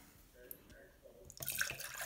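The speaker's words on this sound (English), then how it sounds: "I'm going to measure 1 cup of water again, and we're going to put it into our third cup" Water is poured from a measuring cup into a cup marked for vinegar for a lemonade experiment: a few faint drips, then a brighter splashing pour rising in the last second, close by.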